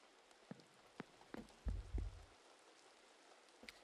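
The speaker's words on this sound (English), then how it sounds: "Standing in the pissing rain." Steady rain falling in The Seance of Blake Manor video game, a soft continuous hiss with scattered drips and a brief low thump midway, quiet and alone.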